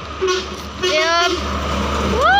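A bus passing on a road in Sumatra, a steady loud engine rumble with rising horn-like tonal toots toward the end, under background chatter.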